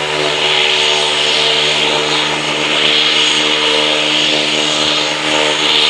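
Airplane landing at Los Garzones airport, a loud steady engine drone with a tonal propeller-like hum and slow swells in intensity, close by and unbroken.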